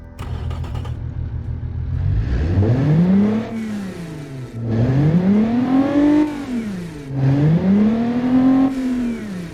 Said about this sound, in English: Little tiny V6, and this is what she sounds like.